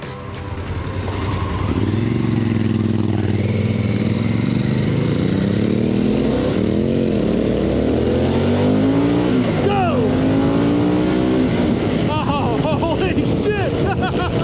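A 2021 Harley-Davidson Pan America motorcycle ridden in sport mode, its engine droning loud and close with rising and falling pitch as it revs through the gears, while a rider talks over it throughout.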